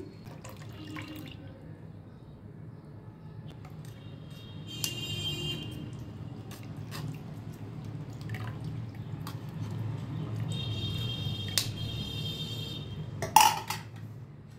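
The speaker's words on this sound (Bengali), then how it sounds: "দুধটা না ছাকলেও চলে, আমি একটু ছেঁকে নিচ্ছি।" Milk being strained through a strainer for misti doi, with a soft steady trickle and drips into a vessel and occasional light clinks of utensils, close and fairly quiet.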